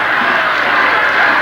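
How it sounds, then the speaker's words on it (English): Crowd at a 1981 Michigan high school football game between Bishop Foley and Aquinas, a steady broad roar of cheering that stays loud and even throughout, with no clear individual voices standing out. "Venture crowd coming to life."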